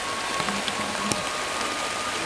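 Heavy rain pours down in a steady, dense hiss, with scattered drops pattering on a nearby surface.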